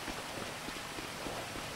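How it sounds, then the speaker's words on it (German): Steady in-game rain from GTA 5 fills the scene with a constant broadband hiss and soft patter, fairly quiet and even throughout with no talking. "Regen."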